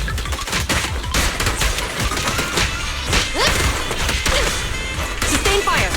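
Rapid gunfire crackles in Zenless Zone Zero as PUBSEC forces battle ethereals, dense sustained bursts mixed with heavy impacts and thuds, loud and close throughout.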